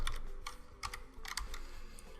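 Soft, quick clicks of keys being typed on a computer keyboard, a brief irregular run of keystrokes heard close and quiet.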